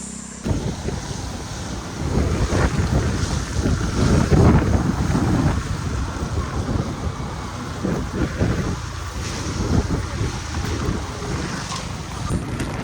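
Heavy monsoon rain and strong wind roar steadily over a vehicle driving through Amboli Ghat, a loud, continuous rushing wash with buffeting gusts and no voices.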